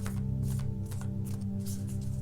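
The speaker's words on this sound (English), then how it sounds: "I normally close my eyes when I shuffle this deck because I love the images" Soft riffling and shuffling of a deck of tarot cards in quick repeated bursts over a steady low electrical hum.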